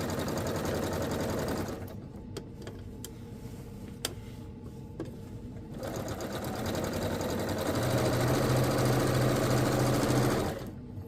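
A sewing machine stitching fabric runs in two steady, loud, close bursts of rapid mechanical whirring, separated by a short pause filled with a few clicks and taps, with no talking.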